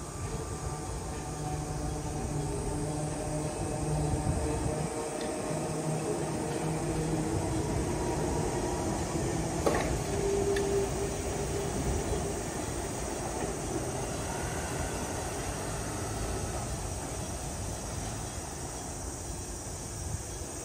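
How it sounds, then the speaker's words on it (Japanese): Steady low buzzing hum of an Enoden train's nose-suspended traction motor, a continuous drone with rumbling wheel and running noise throughout, one brief brighter tone partway through, no talking. "どうやら吊り掛け式モーターっていうものの場合にこういうブーっていう音がするみたいですね"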